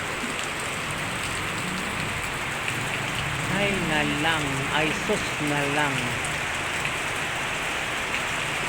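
Steady heavy rain pours down in a constant hiss, while a person speaks briefly midway through.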